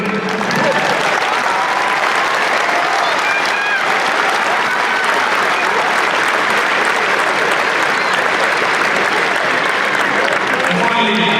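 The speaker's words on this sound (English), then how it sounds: "I'm going to stand up and give a round of applause." Loud, sustained applause from supporters of the Kilbrittain hurling team at the 2021 Cork Lower Intermediate Hurling Championship final against Lisgoold, dense clapping running steadily for about eleven seconds with a few voices mixed in.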